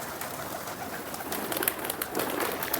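A prized white pigeon from a champion pigeon keeper's loft in old Jammu city coos softly and steadily, with several murmuring calls blending into a continuous bird background close by.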